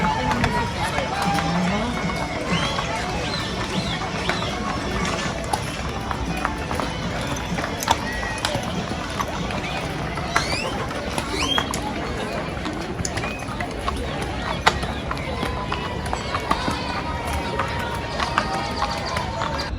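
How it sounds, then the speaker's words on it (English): A Fort Worth, Texas street cattle drive of longhorns with cowboys on horseback passes by as steady hoof clatter and shuffling fill the air, layered under a constant hubbub of crowd chatter. "this street is filled with longhorns and Texas cowboys"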